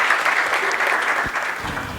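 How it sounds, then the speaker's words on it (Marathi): Audience applause at a Marathi poetry recital, brisk clapping from a crowd held at an even, fairly loud level over a short burst. "जोरदार टाळ्या झाल्या पाहिजेत माळवे सरांसाठी."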